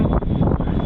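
Strong seaside wind batters the microphone, loud low roaring buffets that surge and dip in quick gusts, close and unbroken, with no speech.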